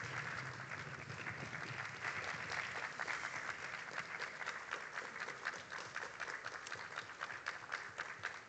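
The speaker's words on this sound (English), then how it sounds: "So a big applause." Steady, even applause from an audience welcoming a maestro at a human-robot artistic collaboration event, continuous and fairly distant, holding at a constant level throughout.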